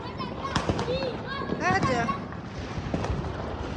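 Firecrackers bursting during Diwali celebrations at a farm, with scattered sharp pops and cracks heard over continuous nearby talking.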